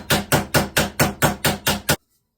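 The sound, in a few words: hammering rivets on a forged Viking helmet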